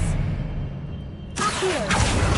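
Expelliarmus spell cast in the video game Hogwarts Legacy: a short magical whoosh with a bright burst and swirling tail, loud and close, following a quieter stretch.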